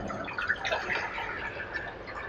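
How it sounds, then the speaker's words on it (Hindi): Water pours into a pot holding a mutton raan for roasting, a short continuous splashing gush at moderate level with no talking over it. "इसके अंदर हमने ये देखें पानी डाल लेना है"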